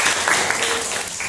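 Applause from students in a classroom, a dense steady wash of many hands clapping together, close and sustained without a break.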